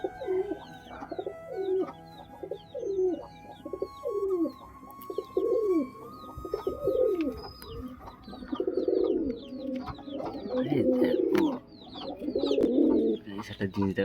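Pigeons coo indoors in a loft, with many overlapping throaty coos repeating close by and growing louder and busier over time, along with faint higher chirps.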